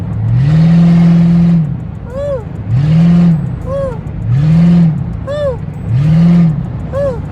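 Ford Crown Victoria P71 engine revving loudly from inside the car, four strong rising-and-falling surges with whining overtones, heard close and loud.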